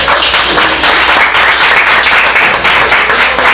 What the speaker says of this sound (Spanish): Le damos un fuerte aplauso al maestro